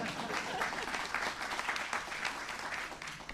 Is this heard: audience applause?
yes